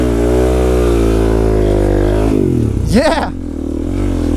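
A supermoto motorcycle engine in a video game drones and revs loudly and steadily, then surges with a sweeping rise as someone shouts over it.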